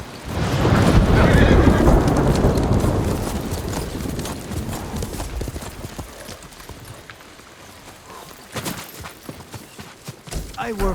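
Horse in the samurai adventure Ghost of Tsushima, a loud close neigh and snorting over clip-clopping hooves that fade to quieter steps and rustling before the hooves pick up again near the end.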